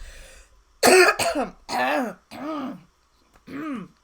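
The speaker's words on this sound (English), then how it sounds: "I'm sorry for coughing out in y'all ear." Close, loud throat clearing followed by several rasping coughs and groaning hacks, spaced out over a few seconds.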